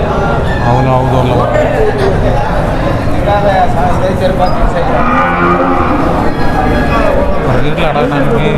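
Cattle lowing repeatedly at the Krosur livestock market, where bulls, young heifers and Jersey and HF cows are traded, the moos overlapping amid constant crowd chatter and bustle.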